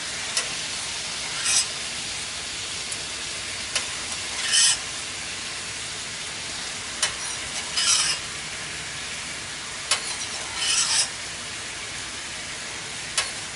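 Rum and coke pork chops sizzle steadily in a pan, a constant frying hiss with several short louder bursts of spattering, close and without talk.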